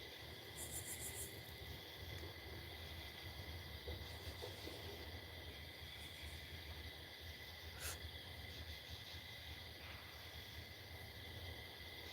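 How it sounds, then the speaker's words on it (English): Night insects, crickets and cicadas, keep up a steady, faint high-pitched chirring drone with no talking, while a few soft low calls like an owl's hoot come in now and then. "I love all the crickets and cicadas and stuff at night."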